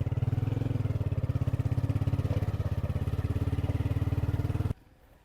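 A motorcycle carrying several riders at once runs with a steady, close, throbbing engine note for several seconds, then stops abruptly and leaves near silence.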